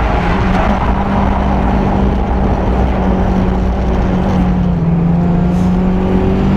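Nissan S13 drift car engine held at steady high revs on a track, a loud sustained droning note with slight pitch wavering, heard from inside or near the car.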